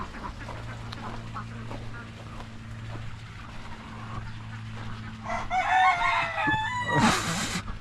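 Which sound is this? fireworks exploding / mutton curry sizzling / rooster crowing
rooster crowing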